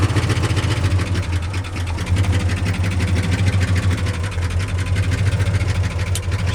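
A 1976 Ford F-250 Ranger XLT crew cab 4x4 pickup, warmed to operating temperature, idles steadily with a deep, even engine rumble close by and no voices.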